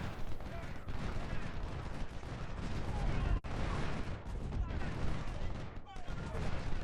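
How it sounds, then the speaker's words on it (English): Musket volleys crackle between opposing lines of troops in the Ultimate General: Civil War game, a steady, dense rattle of gunfire that rolls on without pause and sits fairly low in the mix. "now we're just exchanging shots with him"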